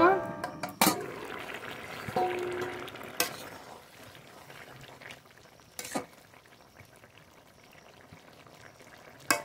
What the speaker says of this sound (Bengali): এবার তরকারি ঢেলে দেবো